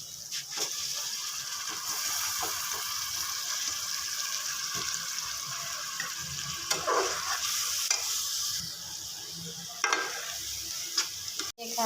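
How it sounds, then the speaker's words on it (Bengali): Washed rice and lentils fry in oil for bhuna khichuri, a steady close sizzle broken by repeated scraping and clinking stirring strokes in the pot, with no talk. "ভাজা হয়ে গেছে চালটা।"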